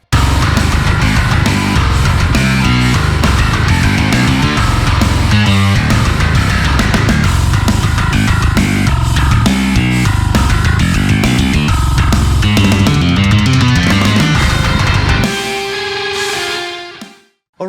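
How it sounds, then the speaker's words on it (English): Nuclear Bass, a Kontakt bass instrument by Impact Studios, plays a loud, dense, punchy line with heavy low end for about fifteen seconds before ringing out and fading to silence, with no voices. "today we're gonna take a look at the new Kontakt bass instrument by Impact Studios. It's called the Nuclear Bass and it sounds like this."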